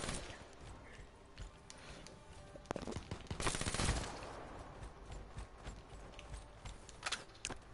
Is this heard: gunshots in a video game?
yes